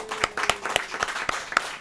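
A small group at a table on a Tejano variety show claps for the group The Goods, sparse individual hand claps at a fairly regular pace, close and moderately quiet.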